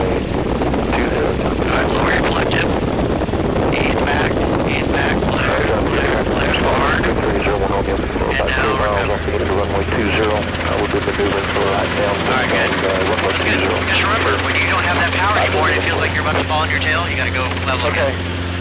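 A Robinson R22 helicopter taxiing, its rotor and engine producing a loud continuous chopping drone close by, with voices talking over the cockpit noise.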